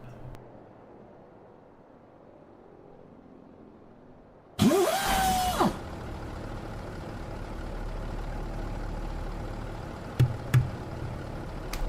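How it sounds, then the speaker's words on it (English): A Mack truck engine with an air starter in American Truck Simulator gives a sharp, loud burst of compressed-air cranking that rises and cuts off, then a low idle rumble carries on with a couple of brief clunks later. "Gotta love that air starter sound"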